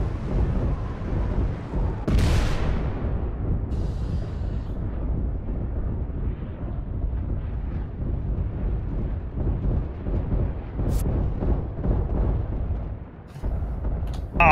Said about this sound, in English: someone's launching missiles at me